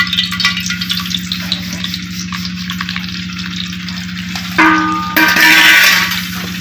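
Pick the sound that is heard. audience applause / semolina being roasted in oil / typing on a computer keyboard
semolina being roasted in oil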